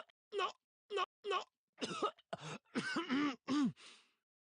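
A character in the video game Steins;Gate 0 coughs in a series of short, sharp, close bursts, then breaks into longer voiced throaty coughs and gasps that end in a breathy trail.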